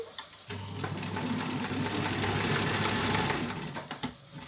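Sewing machine zigzag stitching a seam on women's pants made from a Vogue 9008 pattern. It runs as one steady, close, continuous whirr for about three and a half seconds, then stops.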